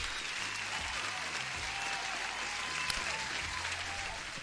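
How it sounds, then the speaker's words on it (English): A crowd applauds steadily, a dense wash of clapping that holds at even loudness throughout. "Vivian, applause."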